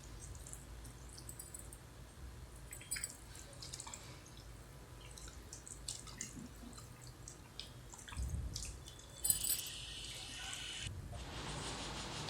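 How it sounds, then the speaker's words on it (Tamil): Water is poured from a vessel and stirred into cooked ragi porridge, giving faint trickling, dripping and sloshing sounds close by in a quiet kitchen. "நல்லா ஒரு சொம்பு தாராளமாக தண்ணி ஊற்றி நல்லா நம்ம தண்ணியாக கரைச்சிக்குவோம்."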